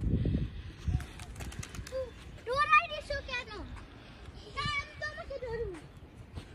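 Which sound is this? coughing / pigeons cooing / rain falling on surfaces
pigeons cooing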